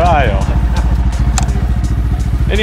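A tiny Honda Monkey mini motorcycle idles with a steady, low, rapid putter, partly covered by a person talking close by throughout.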